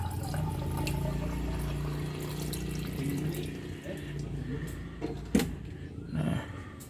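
Well water pouring steadily into the radiator of a Suzuki Carry 1000 with a low rushing gurgle, someone talking over it, then a couple of clanks near the end.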